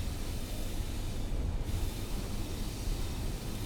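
A Pacer diesel train in Train Sim World 3 running steadily, with a constant loud engine drone and rumbling wheel noise under a broad hiss throughout, no talking.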